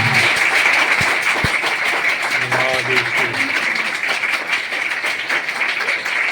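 A church congregation claps loudly in thanks to the Lord, a dense, sustained burst of applause, while a voice speaks over it.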